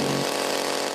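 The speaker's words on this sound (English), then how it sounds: "A grizzly bear with a chainsaw." A chainsaw runs at full throttle in a loud, continuous buzzing whine that lasts about a second, close by and with no voices over it.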